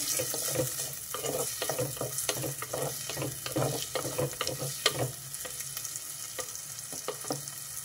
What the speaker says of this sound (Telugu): ఆయిల్ వేడైంది. ఉల్లిపాయలు, పచ్చిమిర్చి వేసేస్తున్నా.